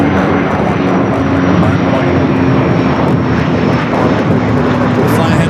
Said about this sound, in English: You have Delta flight 991, 767 at 300ER rolling down